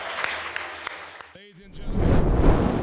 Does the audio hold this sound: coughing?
no